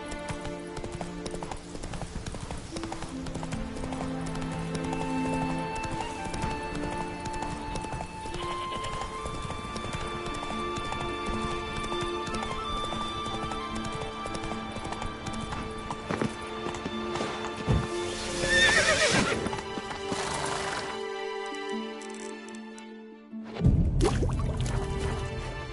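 In a video game, the horse Roach trots with steady, rhythmic clip-clop hoofbeats over a game music bed, then a loud neigh, a brief silence and a final burst of sound.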